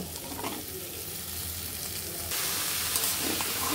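Papaya pieces hit a pan of fried desi shrimp, and a continuous sizzle and frying hiss rises in volume partway through, with faint stirring scrapes mixed in.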